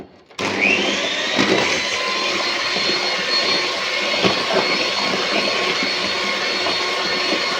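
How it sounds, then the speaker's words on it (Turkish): A handheld electric mixer whisks orange cake batter with orange juice just added, a loud steady whir starting abruptly and running continuously close up, with no talk. "Portakal suyumu da kattım. Tekrar çırpıyorum."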